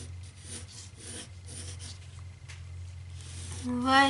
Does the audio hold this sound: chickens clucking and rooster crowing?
no